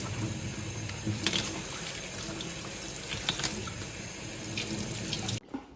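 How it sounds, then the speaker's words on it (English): Napa cabbage washed under a running kitchen tap, a steady close rush of water into a sink with occasional splashes and clinks as leaves are handled, cut off abruptly at the end. "We are washing the Napa cabbage to make sure we get all the dirt and bugs"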